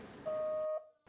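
A phone ringtone sounds as one short, pure electronic tone held for about half a second, faint and alone before it cuts off.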